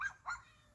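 A dog gives two short, close barks, high and yelping, followed by a quiet tail of background noise.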